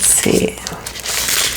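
A plastic wrapper from a card deck crinkles and rustles briefly up close, a quick loud burst at the start followed by softer crackling.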